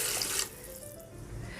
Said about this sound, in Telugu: ఇప్పుడు మనం వాటర్ వేసుకుందాము